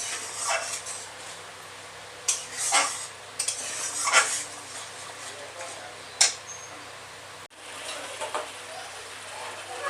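Chicken is stirred in spiced oil, cooked down until the oil separates, with a low simmering hiss under intermittent scraping strokes of a spatula against the pan and a couple of sharp clinks.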